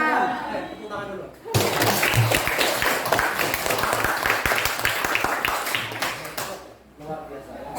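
Classroom students burst into brisk, loud group clapping after a short stretch of talk, keeping it up for several seconds before it tapers off into voices again.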